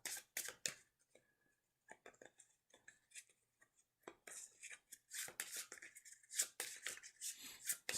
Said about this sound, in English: Shuffle this up.